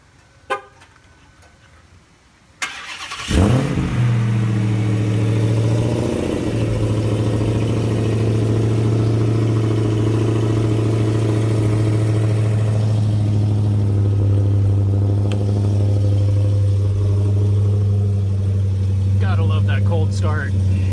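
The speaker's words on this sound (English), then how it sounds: "what a proper, well-working, no bad ball bearing Supercharger should sound like" A Dodge Hellcat with a new supercharger cold-starts after a quiet moment, its engine catching with a loud burst and settling into a steady, deep idle with a smooth supercharger whine; a voice speaks briefly near the end.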